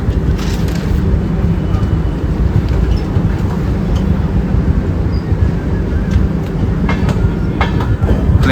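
Onboard rumble of an express train running from Chennai to Sainagar Shirdi after leaving Krishnarajapuram, with a loud continuous low roar of wheels on rails and faint clicking. A voice talks over it.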